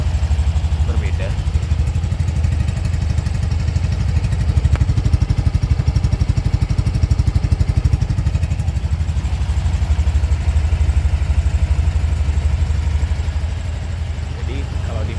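Yamaha FreeGo S Connected 125 and Honda Beat scooter engines idle with a steady, close, low putter that continues throughout at an even level.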